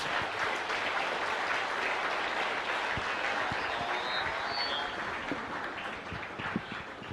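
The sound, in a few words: audience applause for Secretary Ross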